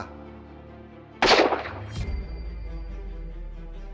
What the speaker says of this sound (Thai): ข้าพเจ้าก็ยิงหมายระหว่างตา